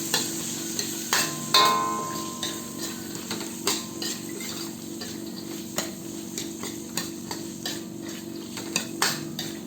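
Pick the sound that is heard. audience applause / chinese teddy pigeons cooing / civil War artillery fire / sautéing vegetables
sautéing vegetables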